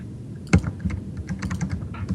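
Rapid keystrokes on a computer keyboard, a sharp louder clack near the start followed by a steady run of light, uneven taps, close by and alone without talk.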